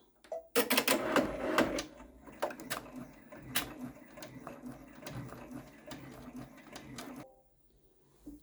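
Embroidery machine stitching out placement circles on an in-the-hoop door hanger, a fast rhythmic mechanical chatter with clicks and thumps, starting abruptly, running several seconds and stopping, close and fairly loud.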